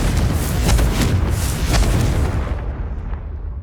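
The Confringo fire spell in Hogwarts Legacy detonates as a loud, close, rumbling blast, its broad roar slowly fading out over a few seconds.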